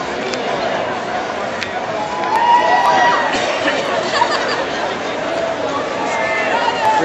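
A large outdoor crowd at a Red Bull Soapbox Race in Vancouver cheers and chatters steadily, with a swell of louder cheering in the middle and voices talking over the din.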